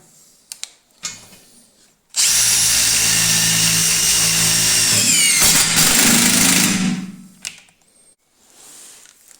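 A Makita DTD172 impact driver in mode four, the setting for self-drilling screws into thick sheet metal, runs loud and close in one sustained burst of about five seconds, hammering and whining before stopping, with a few small clicks before and after.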